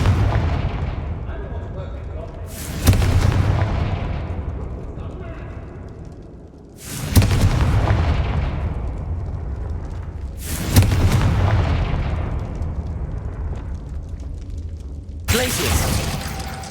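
Fiery Confringo spell blasts go off in the video game Hogwarts Legacy, four loud booming explosions spaced a few seconds apart, each one decaying into a rumbling crackle.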